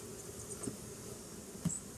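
Honey bees buzz faintly around a hive during a beekeeping inspection, a soft continuous drone with a couple of small knocks and bumps close by, no voices.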